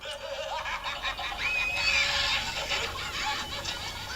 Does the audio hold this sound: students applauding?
no